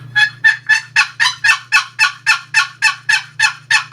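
A box call imitates a hen turkey's spring yelp in a long series of about thirteen evenly spaced, raspy, loud and close notes, with a faint low hum underneath.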